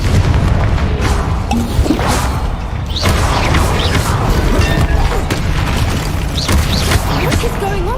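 Confringo fire spells explode repeatedly in Hogwarts Legacy combat, loud booming blasts and crashes layered with battle effects, with a voice shouting over them.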